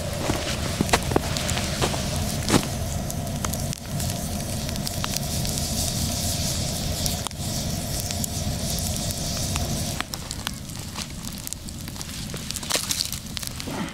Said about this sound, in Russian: Разожжем здесь костер.